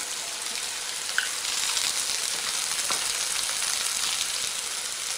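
Sliced bitter gourd frying in oil in a pan, a steady close sizzle with scattered light pops and one brief clink, continuous and unvoiced.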